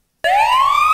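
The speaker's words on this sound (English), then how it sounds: "That's the scary logo and troublemaker siren." A cartoon-style alarm siren blares after a short silence, one loud rising wail that sweeps upward and holds, close and alone with no talk.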